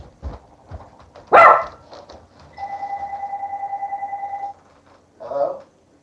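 A dog barks indoors, one sharp loud bark standing out, followed by a steady electronic telephone ringing tone and a brief final yelp-like sound.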